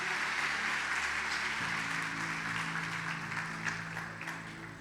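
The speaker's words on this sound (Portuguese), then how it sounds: "Aplauda Jesus bem forte." Church congregation clapping during a Portuguese-language worship service, a dense, steady wash of applause over sustained organ or keyboard chords, without any talking.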